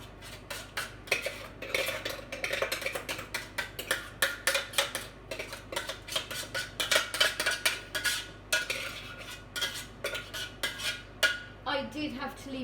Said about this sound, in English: So what I'm going to do is I'm going to add this back into the pot.